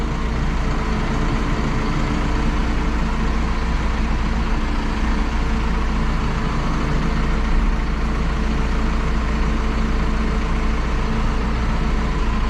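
A heavy diesel engine on a 2021 Massey Ferguson 5S 135 tractor idles steadily, a low rumbling drone that holds constant throughout with no talking.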